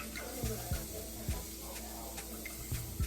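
Chopped onions sizzle faintly in a pan as the start of scrambled tofu, a soft steady hiss broken by a few light utensil taps close by.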